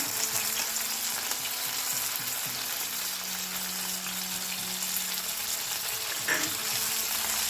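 Chopped bottle gourd with coriander fries in a pan for an Andhra-style chutney, giving a steady, close hiss of sizzling oil with occasional soft stirring.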